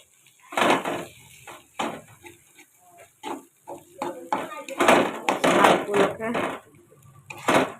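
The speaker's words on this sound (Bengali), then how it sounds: "এগুলোকে এইভাবে নেড়ে নেবো" Khesari greens and onion being stirred in a cooking pan, with uneven bursts of a spoon scraping and clattering against the metal under a soft sizzle.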